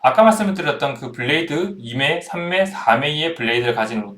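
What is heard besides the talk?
No everyday noises stand out.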